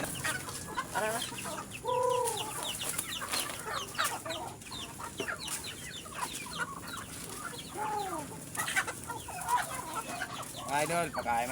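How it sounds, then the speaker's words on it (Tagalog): Breeding chickens at a backyard pen clucking and squawking continuously, with several birds calling over one another and a few rising crow-like calls, moderately loud and close, with some faint background noise. "yung mga manok kong alaga oh, breeding."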